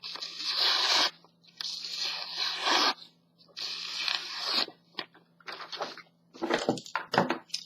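A freshly sharpened knife push-cuts a plain sheet of A4 paper in close, crisp tearing strokes, about five separate slicing passes with short pauses between them.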